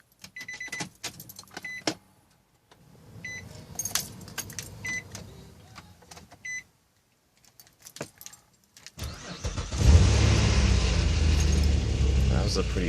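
Keys jangle and shuffle near a car, then the engine cranks and catches quickly on a semi-cold morning, settling into a loud steady idle close by; brief talk comes before the start.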